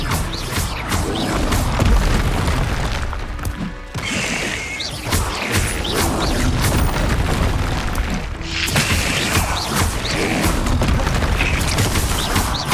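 Spellcasting combat in Hogwarts Legacy, the Expelliarmus disarming charm fired over and over: loud, dense booming blasts and crashing impacts run almost without pause, with a brief dip partway through.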